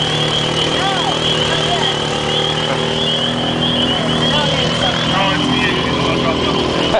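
A RZR side-by-side and four-wheelers churn through mud, engines droning steadily and loudly at close range, with voices talking over the motor noise.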